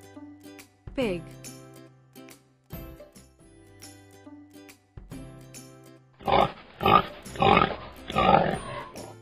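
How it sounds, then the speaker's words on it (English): A pig gives a burst of four loud, rough grunts in quick succession near the end, after quieter melodic tones and a short rising squeal. "Pig."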